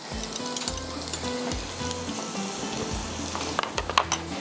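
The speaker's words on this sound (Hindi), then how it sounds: "लहसुन हमारा फ्राई हो रहा है" Garlic frying in a pan for a tempering over potato raita, a close, crackling sizzle with scraping stir sounds and a low repeating tone underneath.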